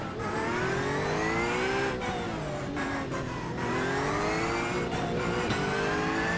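Race cars at a rolling start at Indianapolis Motor Speedway in a racing video game, a loud continuous engine drone with rising and falling revs and gear changes, no talk.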